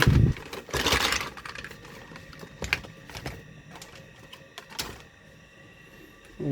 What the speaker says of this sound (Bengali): দেখতে পাচ্ছ আমরা কিন্তু বক্স থেকে সব কিছু একদম ঢেলে দিচ্ছি।